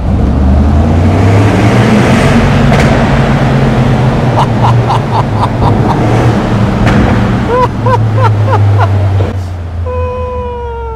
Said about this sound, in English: Just need to switch to the good exhaust sound.